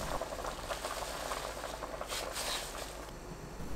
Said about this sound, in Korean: 뚜껑 열어둔 상태로 센 불로 2분 끓여주세요.